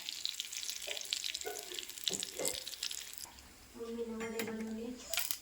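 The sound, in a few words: mustard seeds and curry leaves tempering in oil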